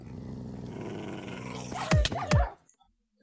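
A dog-like creature in the Minecraft video game growls steadily, then lets out two sharp, loud barks or snarls near the end before the sound cuts away to near silence.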